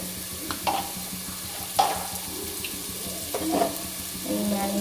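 Onions sizzle in ghee in a pan on a lit stove while prawn biryani is being made. A steady close frying hiss carries through, broken by a few sharp stirring scrapes and clinks.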